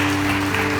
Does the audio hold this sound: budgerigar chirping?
no